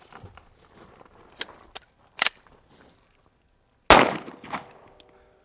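A Glock Gen 6 pistol with a jamming slide mechanism fires two sharp, loud reports a couple of seconds apart, amid lighter clicks and handling noises.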